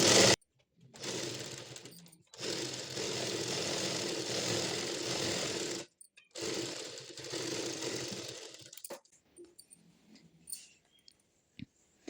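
Sewing machine running in long continuous bursts while stitching a Patiala pant with kinari stitch, loud and steady, stopping briefly between runs, then fading into quieter handling noise at the end.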